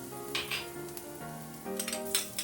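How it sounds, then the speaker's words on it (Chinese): Minced garlic and sliced ginger hitting hot, lightly smoking oil in a wok, giving a close, continuous sizzle with brief spits and clinks of utensils against the pan. "看到有青烟了，就把蒜末和姜片下进去"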